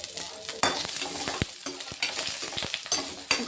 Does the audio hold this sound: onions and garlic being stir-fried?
yes